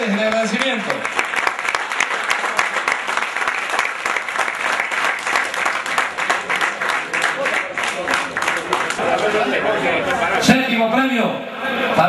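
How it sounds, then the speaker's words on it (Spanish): A crowd at a fishing club prize-giving party at Laguna Las Encadenadas applauds in a dense, steady burst of clapping that lasts throughout, with voices talking over it and a brief swell near the end. "un aplauso para ustedes, el agradecimiento"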